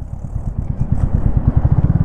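A 2024 Royal Enfield Classic 350 single-cylinder engine pulls steadily while riding, a close, loud and even low thump with no talk over it.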